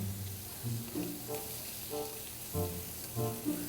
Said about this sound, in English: we're going to go ahead and flip these little shrimp over